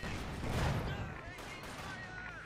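Gunfire and explosions from the real-time strategy video game Company of Heroes 2 during a 1v1 match, a dense continuous battle din with rumbling blasts, under a commentator's voice.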